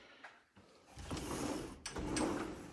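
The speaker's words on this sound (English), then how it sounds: "Pocket doors." Pocket doors in a house slide along their track with a low rumbling roll, rising after a short pause and continuing in two long scraping passes, close and moderately loud.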